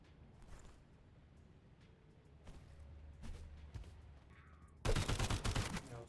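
Shotgun blast in the shooter game Sulfur: a loud, broad burst near the end that rings on for about a second, after quieter game ambience with a few faint clicks.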